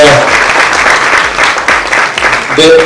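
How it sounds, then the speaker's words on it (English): A crowd applauds the young models on stage at a model hunt event, loud and continuous clapping with voices faintly mixed in. "I think they all deserve a round of applause for them getting there"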